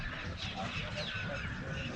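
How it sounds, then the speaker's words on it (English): Faint honking bird calls rise and fall over soft background noise at the Taj Mahal, heard briefly from a distance. "Look at the birds."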